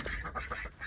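Ducks at a coop nesting box give a short burst of nasal quacks, close and fairly loud.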